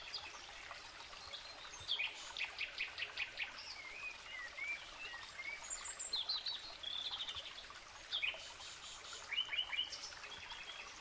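A steady rush of flowing forest stream water fills the background while several birds chirp and trill brightly over it, near and clear.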